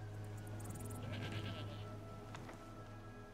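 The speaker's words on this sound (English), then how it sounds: "We straight up got this goat now." A goat bleats in Skyrim, one wavering cry rising over a steady hum of game ambience, with no talk over it.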